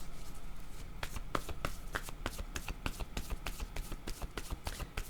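Tarot cards are shuffled by hand in a close, rapid series of crisp riffling snaps and taps, repeating in an uneven rhythm.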